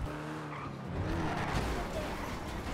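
Cars in GTA V drag race with turbos, engines roaring and tires squealing as a vehicle accelerates and skids, loud and close, with some voices in the background.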